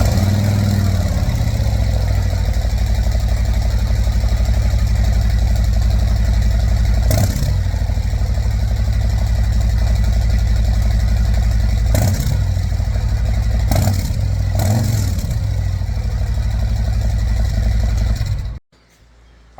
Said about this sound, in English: here is what this bike sounds currently stock